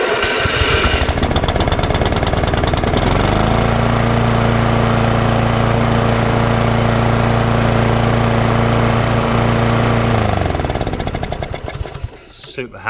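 A Mountfield SP536ES self-propelled lawn mower's small petrol engine, once broken and now repaired, cranks, catches and settles into a loud, steady close-up running drone with strong low harmonics, then cuts off near the end.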